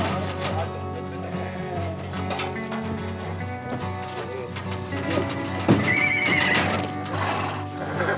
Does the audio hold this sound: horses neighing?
yes